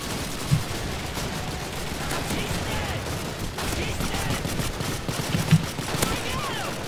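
Rapid gunfire bursts in Call of Duty 2 on PC crackle steadily through dense in-game noise, with a few louder shots standing out, while a person talks over the action.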